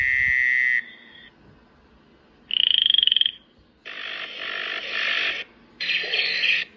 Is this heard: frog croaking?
yes